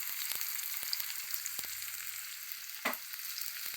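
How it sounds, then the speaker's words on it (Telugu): Onions and green chillies frying in oil in a pan, a quiet continuous sizzle with a few sharp clicks and one brief louder spatter, no talking. "ఇందులోను ఉల్లిపాయలు, పచ్చిమిరపకాయలు వేద్దాము. వేసాం కదా, ఉడుకుతూ ఉంటుంది."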